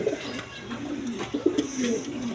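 Danish pigeons, a pair kept for sale, coo in low soft repeated phrases close by, several throaty rolls over a faint background murmur with no clear speech.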